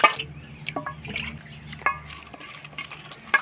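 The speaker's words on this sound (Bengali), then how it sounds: "মাংসটা ধুয়ে নিলাম।" Raw chicken pieces being washed with water in a bowl, with scattered splashes and drips, soft sloshing and a few light clinks of a container, close and fairly quiet.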